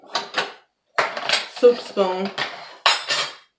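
Metal kitchen utensils such as a spatula, tongs and spoons clatter and clink in short bright bursts as they are handled and set down during kitchen decluttering, loud and close with brief gaps.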